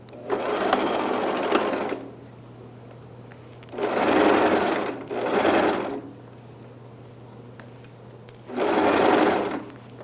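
Sewing machine stitching the original hem on a pair of jeans, opening with a backstitch; three separate bursts of close, loud, whirring stitching, the last two longer, separated by quiet pauses with a low steady hum.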